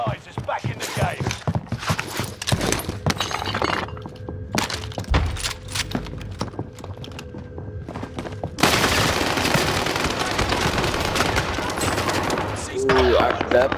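Video game gunfire crackles in dense, rapid bursts, with loud shots stacking into near-continuous volleys. Game voices and chatter come and go over the shooting.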